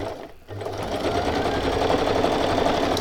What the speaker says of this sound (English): And I'm just stitching down the image.